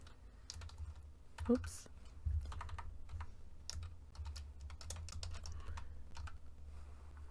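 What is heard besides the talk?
typing on a computer keyboard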